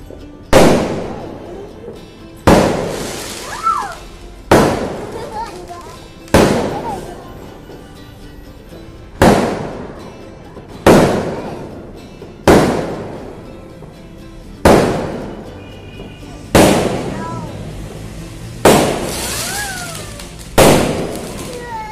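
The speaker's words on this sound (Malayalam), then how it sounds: "ഞങ്ങളുടെ വീട്ടില് മേലെ നിന്ന് കഴിഞ്ഞാലും പടക്കമൊക്കെ പൊട്ടിക്കുന്നത് കാണാം." Firecrackers and fireworks bursting outside during a celebration, a series of about a dozen loud sharp bangs spaced a second or two apart, each trailing off, with faint whistling rockets between them.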